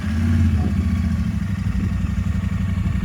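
A Royal Enfield Continental GT 650 or Interceptor idles on its stock exhaust, a steady, loud low thrum with an even pulsing beat lasting throughout, with no voices over it.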